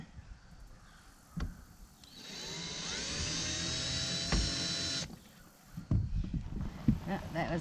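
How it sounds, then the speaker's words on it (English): A power drill runs during repair work on a leaking RV skylight, a high whine for about three seconds after a couple of sharp knocks, then stopping into quieter handling noises. "that was the drill, that wasn't the plastic"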